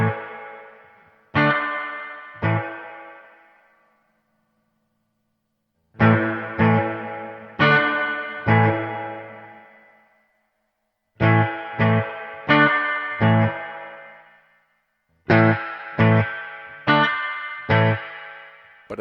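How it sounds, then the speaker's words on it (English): Guitar chords played through a Hotone Verbera reverb pedal, struck in groups of three or four sharp strums with gaps of silence, each chord trailing off in a smooth, fading reverb tail. "Pay attention to what happens to the low end of the reverb here."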